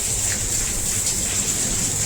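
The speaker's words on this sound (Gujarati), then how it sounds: "કેમ કે વરસાદ ફૂલ છે, જોઈ લો" Heavy rain comes down hard and steady, a dense close hiss of drops hitting surfaces that continues without a break for the whole short moment, with no talking.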